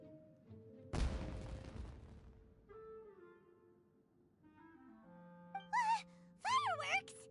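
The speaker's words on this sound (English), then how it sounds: "Was that an explosion? It sounded like fireworks." Fireworks going off in a fantasy video game, a sudden loud burst followed by a decaying crackle, with game music tones and chiming effects afterward; no one speaks over it.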